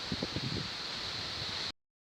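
Strong hurricane wind in Taganrog rushes and rustles through trees in a steady broadband wash with some low buffeting early on, then cuts off abruptly.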